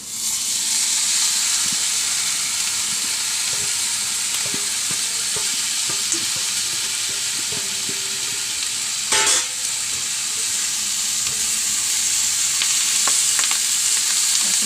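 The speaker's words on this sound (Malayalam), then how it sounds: "നമുക്ക് നേരത്തെ വേവിച്ച് വെച്ച കക്കറച്ചി ഇതിലിടാം" Pre-cooked clam meat tipped into a hot frying pan with green chillies and stirred, a loud continuous sizzle and hiss with light scraping and stirring knocks.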